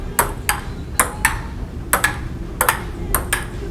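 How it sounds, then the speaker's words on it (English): A ping pong ball hits the leg of an Outdoor Pro table, giving sharp, hollow pings that fall in irregular pairs and singles. The strikes sound close and crisp over steady background noise. "it hit the table leg of the Outdoor Pro and bounced back to me"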